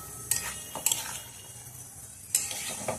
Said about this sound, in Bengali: এবার এটা নেড়ে চড়ে শুধু কষাতে হবে